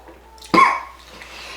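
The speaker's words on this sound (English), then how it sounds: "the cough was not because of the whiskey" A single sharp cough bursts out close to the listener, brief and loud, followed by faint breathing in an otherwise quiet room.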